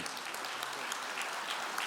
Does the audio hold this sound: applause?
yes